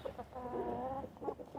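Backyard homestead chickens clucking nearby, a run of soft repeated clucks and murmurs with a short louder burst near the end, no talking.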